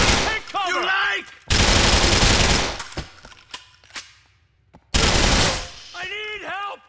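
Gunfire in Grand Theft Auto IV: two long bursts of rapid, loud shots, each lasting over a second, with a few sharp isolated reports between them and voices speaking in the pauses.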